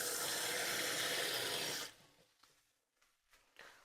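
Water runs steadily from a tap for nearly two seconds while 1.25 cups are measured for couscous, then stops, leaving faint clinks and handling sounds of the cup.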